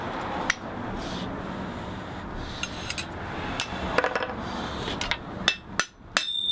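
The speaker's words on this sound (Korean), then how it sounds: "일일이 손으로 다듬고 망치로 두드려서 완성되어가는 칼 한 자루." A blacksmith hand-hammers a knife blade, sharp ringing metal strikes scattered irregularly over a steady forge-like roar, some blows singly and some in quick clusters, loudest toward the end.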